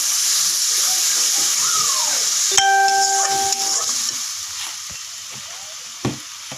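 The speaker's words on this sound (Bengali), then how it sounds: "এগুলোকে বেশি সময় নাড়ব না, হালকা সময় একটু নেড়ে চেড়ে নেব" Ground spice paste with bay leaves briefly stirred in a frying pan for an egg curry: a steady hiss of frying with a sharp clang and a ringing metallic tone, then softer scrapes and a final knock.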